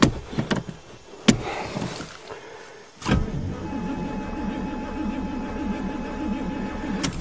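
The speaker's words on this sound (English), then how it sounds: "Ooh, it's gonna crank, so we'll give it some pumpage." A carbureted Chevy car engine cranks to start: a few clunks and knocks, then a sudden surge into a steady, rhythmic churning drone that continues close and fairly loud to the end, with no voices.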